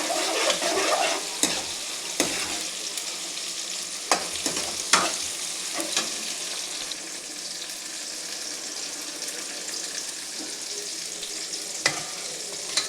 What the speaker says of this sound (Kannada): ಚೆನ್ನಾಗಿ ಫ್ರೈ ಆಗಲಿ ಟೊಮೊಟೊ, ಈರುಳ್ಳಿ